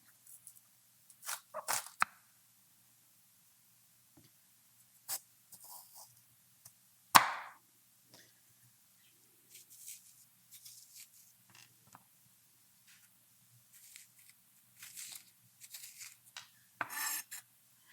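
A kitchen knife slicing bitter gourd lengthwise on a board: scattered, faint, close scraping cuts and taps, one sharper knock, with long quiet gaps between strokes.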